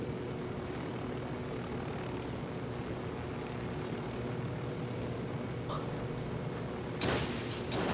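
A helicopter drones steadily in the co-op shooter Ghost Recon Wildlands, a constant rotor and engine rumble with a sharp noisy burst near the end and no talk.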